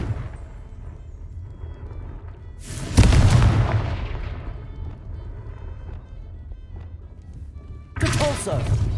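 A Confringo fire spell from the Hogwarts Legacy video game bursts in a sudden loud blast that decays over a couple of seconds, then a second explosive burst hits near the end, both over a steady low game rumble.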